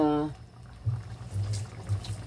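Sardines with chayote and misua soup simmering in a pot, a low steady bubbling close by with soft pops recurring under a brief voice at the start.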